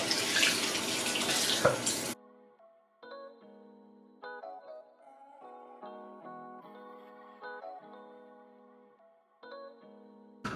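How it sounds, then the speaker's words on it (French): Tap water runs loudly into a sink for about two seconds while a face is washed. The faucet then stops, and a melodic musical tune carries on alone. "Donc je vais venir laver mon visage."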